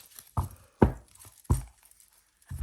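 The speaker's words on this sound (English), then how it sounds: "I'll just give them another shuffle" Tarot cards, a rare 1982 deck, being shuffled in four distinct bursts of soft riffling slaps separated by short pauses, close and fairly quiet with no talking.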